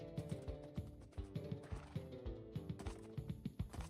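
Rhythmic clip-clop of horse hooves trotting steadily in Wynncraft, over a busy layered background of music-like game tones, quiet and evenly paced.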